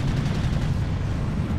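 Gunfire from the Planetside 2 game, a dense, steady low rumble of continuous shooting with no clear gaps, loud and close throughout.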